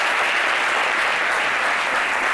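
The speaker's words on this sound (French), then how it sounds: "On va applaudir son concept parce qu'il faut le dire." Studio audience on a midday Ivorian television talk show breaks into dense, steady applause, loud and close, continuing evenly without a pause and with no talking over it.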